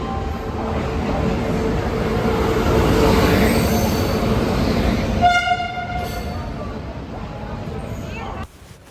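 A train pulls into Gurgaon railway station with a loud rumbling roar, a horn sounding near the end and people talking amid the platform noise.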